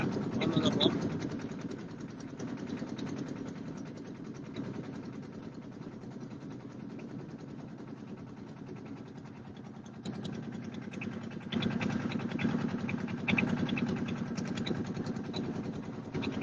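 A motorboat engine on the Jamuna river chugs at a steady low idle-like drone with faint vibration, continuing throughout and growing a little louder toward the end.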